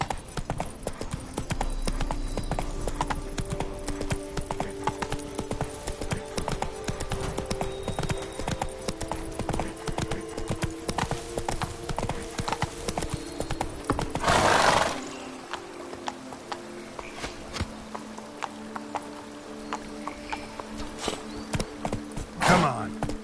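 Roach, the horse in The Witcher video game, galloping with rapid, steady hoofbeats under game music, then a loud neigh midway before the hooves carry on at a slower, quieter pace.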